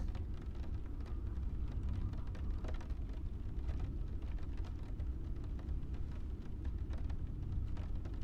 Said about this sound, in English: I love my ambient rain sounds